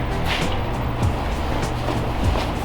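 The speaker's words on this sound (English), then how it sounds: "It's a pretty unique exhaust system" Steady low rumble of an LS-swapped Chevy Chevelle idling through its exhaust on first start, continuous and fairly loud, with no voices.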